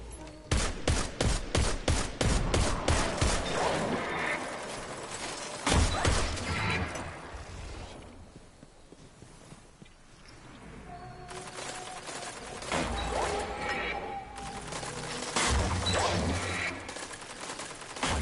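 Rapid bursts of pulse rifle fire in a video game crack out in quick repeated volleys, falling to quieter mechanical clatter in the middle before dense shooting and impacts build up again, with faint voices in the background.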